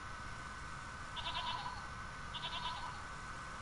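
A goat in a video game bleats twice, a thin sheep-like cry sounding faintly over a steady background hum.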